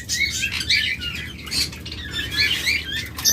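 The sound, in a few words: pet birds chirping, lovebirds, budgerigars, cockatiels, conures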